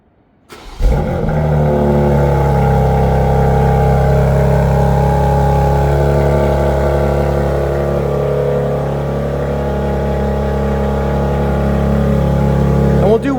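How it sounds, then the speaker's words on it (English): Remote cold start of a 2025 BMW X4 M Competition: the starter catches and the engine flares loudly, then settles into a steady, deep, rumbling idle that continues close by for over ten seconds. "let's do a little remote engine start, cold start"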